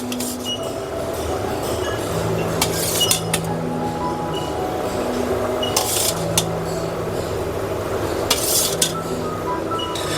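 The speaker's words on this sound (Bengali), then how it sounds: "বেগুনগুলো এর মধ্যে দিয়ে দিচ্ছি। তারপরে আমি মাছগুলোও দিয়ে দিচ্ছি।" Chunks of eggplant and hilsa fish go into a pot for a curry, with a few utensil clinks and knocks against the metal over a steady low kitchen hum.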